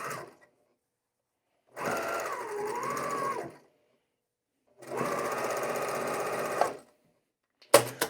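A sewing machine stitches quilt seams in two long steady runs of rapid whirring, each about two seconds, separated by silence, followed by a brief sharp clatter at the end.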